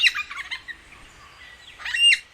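A lyrebird mimics a whipbird: bright, close chirping calls open the clip, then a sharp rising whip-like sweep rings out near the end, loud and clear against a quiet background with no talking.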